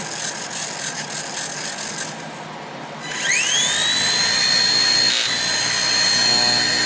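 Nano CPx RC helicopter, freshly fitted with CNC upgrade parts and held in the hand, spooling up to a steady high-pitched rotor and motor whine that stays loud and close after a brief lull.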